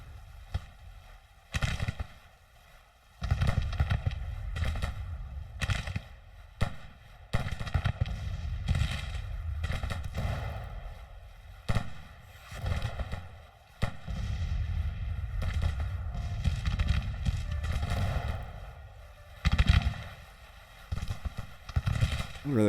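Musket volleys in the Civil War strategy game Grand Tactician at the Battle of Chancellorsville come as irregular sharp cracks and popping bursts across a busy battlefield, some clustered, some isolated, with someone talking intermittently over them.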